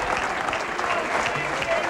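A crowd at a 1997 professional bowling tournament match claps and cheers in a dense, steady roar of applause, loud and continuous throughout, with voices mixed into the din.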